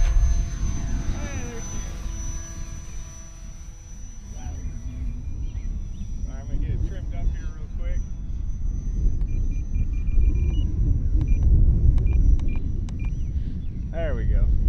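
Small Dancing Wings Tiger Moth balsa RC biplane with 800mm wingspan on its maiden flight, taking off from a school field in a gusty south wind; a steady motor drone with heavy wind rumble runs throughout while someone talks.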